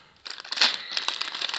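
A plastic packet from a Lego set crinkles close up, starting after a short quiet moment and keeping up a dense, crackly rustle to the end with no one speaking.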